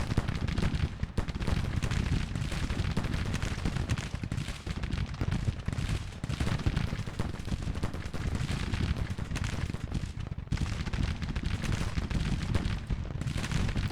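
Civil War infantry in Grand Tactician trade close-range musket volleys, a steady, continuous roll of crackling gunfire and distant booms filling the battlefield without letup.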